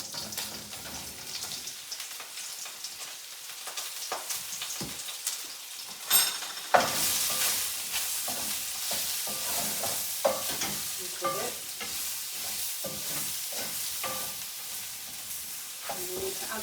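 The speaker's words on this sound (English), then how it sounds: "to cook off the mushrooms." Mushrooms cooking in oil in a pan for Chicken Normandy, producing a continuous close sizzle that swells partway through, punctuated by repeated stirring scrapes and clicks.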